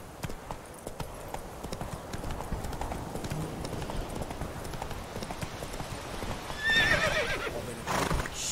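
Horse hooves gallop in a steady, driving clip-clop through The Witcher 3, with a sharp whinny rising near the end over a continuous outdoor wash.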